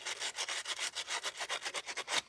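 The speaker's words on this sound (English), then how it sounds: "You can use some sandpaper to sand down the surface in here." Rhythmic, close scraping strokes of 80-grit aluminum oxide sandpaper rubbed over the rear hub surface of a 2010 Subaru Outback 3.6, about a dozen steady back-and-forth passes with no talking.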